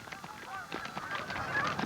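Migratory geese honk repeatedly in a flock, with overlapping calls at a moderate, steady level, in a car advertisement.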